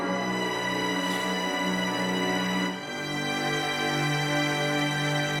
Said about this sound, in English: Very nice string samples, Hugo